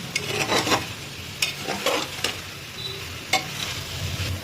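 Continuous frying sizzle of chicken and vegetables in a pan, broken by intermittent scraping and stirring strokes, close and fairly loud with no talking.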